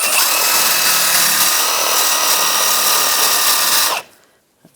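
Wire brush, likely power-driven, scrubbing the frame of a 2005-15 Nissan Xterra: a steady, loud, gritty whirring abrasion for about four seconds, then an abrupt stop into near silence with a faint click.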